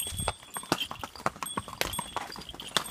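Horse hooves clip-clopping steadily on a mountain trail near Nainital, a close, irregular run of sharp knocks with faint background sound.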